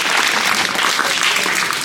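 An audience claps loudly and steadily for a children's play at a village event, dense sustained applause filling the space with no pauses.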